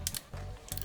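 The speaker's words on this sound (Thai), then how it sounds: "ขึ้นชัตเตอร์ปุ๊บ" The shutter on a Ricoh Ricohmatic 225 camera is cocked, giving short bursts of close, dry ratcheting clicks and gear whirr separated by a brief pause.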